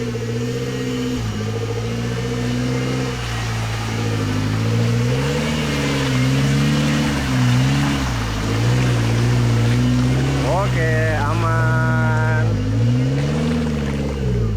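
A 4x4 off-road car driving through deep water on a muddy Bogor trail in the rain, engine droning and revving steadily, with a brief rising whine and short spoken words.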